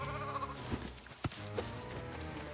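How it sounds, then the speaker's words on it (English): Sheep in a Fortnite Lego survival game bleat in a few short, wavering calls, fairly quiet and close, with no talk over them. "We got some sheep."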